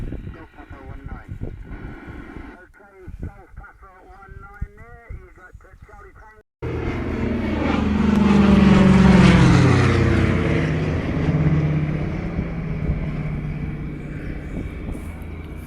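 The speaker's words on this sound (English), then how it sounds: "It's a World War plane. 2-engined." A low-flying World War era twin-engine propeller plane passing overhead outdoors, its loud, rising and falling engine drone arriving abruptly and filling the second half, after a quieter stretch with someone talking.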